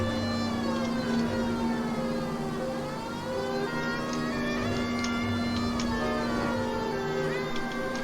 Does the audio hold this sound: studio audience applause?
no